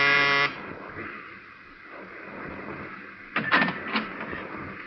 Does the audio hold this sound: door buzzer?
yes